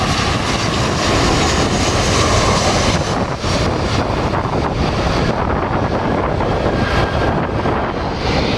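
A United Boeing 737-800 airliner from Houston comes in to land, a loud, steady broadband jet roar mixed with heavy wind buffeting on the microphone, holding constant throughout.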